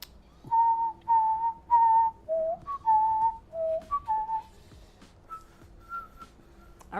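A person whistles a short melody of clear sustained notes up close, a run of distinct phrases that then trails off into a few softer, higher notes.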